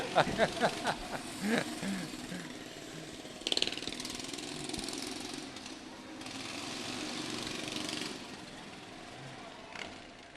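At a 2009 town-day parade, motorcycles rumble at idle with a low, rough mechanical drone and occasional revving bursts, moderately distant under crowd noise and scattered nearby talk.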